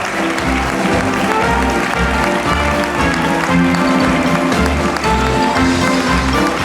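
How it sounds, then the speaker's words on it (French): Loud, sustained audience applause at a circus-themed anniversary gala in Savoie, with steady crowd clapping over a thumping musical beat and occasional voices. "Merci d'applaudir"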